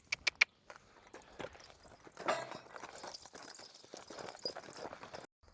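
Hooves clop at a slow walk on firm ground, uneven steps with a few sharp knocks at the start.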